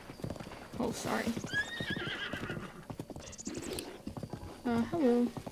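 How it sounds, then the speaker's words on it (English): Horse hooves clip-clopping at a gallop with a couple of loud neighs and whinnies in The Legend of Zelda: Breath of the Wild, a sharp whinny near the end, with a person talking over it. "Nice, another horse."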